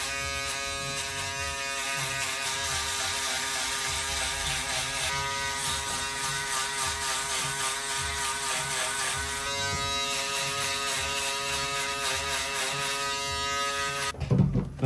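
Electric foil shaver buzzing steadily and loud during a skin fade buzzcut in a London barber studio, a continuous close hum broken by a sharp clatter right at the end.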